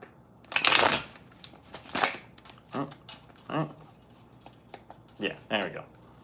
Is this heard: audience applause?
no